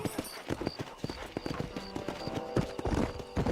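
A horse gallops in the video game Red Dead Redemption, its hoofbeats a quick, steady clip-clop running close and fairly loud through the whole stretch, with faint tack noise and a brief whinny-like sound among them.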